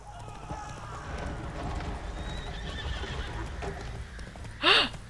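A horse in The Witcher 3 video game clops its hooves in a steady patter, then lets out a short, loud neigh near the end, heard close over quiet ambient game sound.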